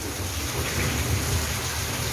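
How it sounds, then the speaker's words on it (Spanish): Steady rain hisses outside with a low rumble of thunder beneath it, loud and even throughout with no voices. "Aquí está lloviendo, como ya se están dando cuenta por el sonido"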